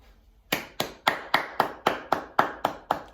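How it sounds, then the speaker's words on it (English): Adults clapping for Year 3 children at a school celebration assembly: about ten sharp, evenly spaced claps after a short quiet start, close and fairly loud, like a single pair of hands rather than a crowd. "All of your adults I can see are ready to give you a big round of applause in your room."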